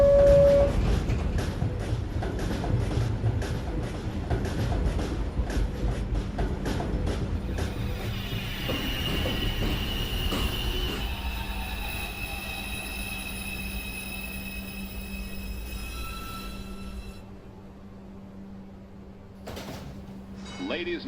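A New York subway 1 train pulls out of Rector Street station with a loud rumbling clatter that fades, high squealing wheel tones ringing out midway before the sound grows quiet.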